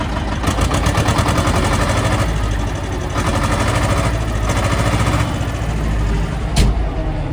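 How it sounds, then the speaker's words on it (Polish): An Escort 335 tractor engine runs steadily, heard from inside the cab: a loud, continuous rumbling idle with a fast mechanical throb and no speech over it. "Ciągnik chodzi."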